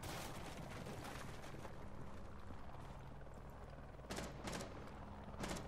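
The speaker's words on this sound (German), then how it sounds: "Einer hat auf meine Drohne geschossen." Gunfire aimed at a drone in Rainbow Six Siege, a few sharp bursts of shots late on over a constant loud mechanical hum.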